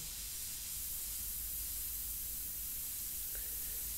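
An airbrush spraying India ink onto paper at low pressure, a steady soft hiss of air held evenly for a few seconds, close and without talk.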